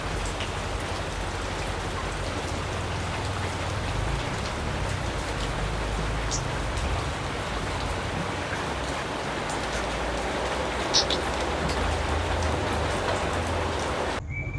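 Steady, dense rainfall hisses without pause, close and fairly loud, with an occasional brighter drop standing out.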